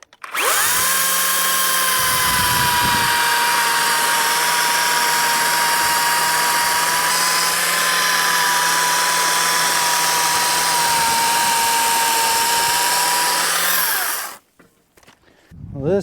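A chainsaw cuts a hay bale into three- to four-inch sections, giving a loud, close, sustained whine that holds steady for about fourteen seconds, then drops off abruptly.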